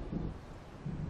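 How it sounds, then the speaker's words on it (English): Low rumbling thunder rolls from an approaching storm, swelling at the start and again near the end, heard alone without voices. "It seems there's a storm coming."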